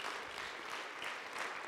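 A church congregation at a revival service gives a sustained round of hand clapping, a dense, even wash of applause heard from a distance and lasting without a break.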